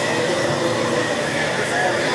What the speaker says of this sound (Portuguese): o trem vai embora